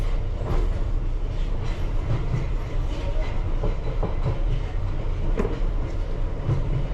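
London Underground Piccadilly Line train rolling eastbound into Hammersmith station at night: a steady close rumble of wheels and motors inside the cab, with faint rail clicks and no talk.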